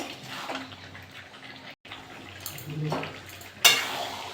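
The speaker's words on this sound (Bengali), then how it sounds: "এবার মাংসের মধ্যে আলুগুলো দিয়ে দেবো ভালো করে কষে নেবো" Chicken and potatoes stir-fried with spices in a pan, a low sizzle with scraping spatula strokes and a sharper clatter near the end, close by.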